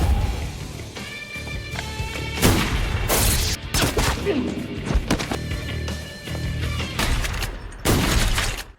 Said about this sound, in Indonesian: Aksi seru baku tembak antara Jack dan para penjaga gudang yang merupakan anak buah Bronson tak terelakkan lagi.